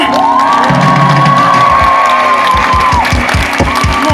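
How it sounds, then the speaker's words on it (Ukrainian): A Ukrainian audience at a poetry event honoring poet Vasyl Stus cheers and whoops loudly, with sustained shouting over a bed of crowd noise and applause, dense and close throughout. "А ну давайте зараз оплесками покажемо, наскільки ми знаємо Василя Стуса."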